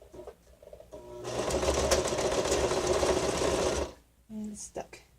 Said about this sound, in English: Here we go, through the sewing machine.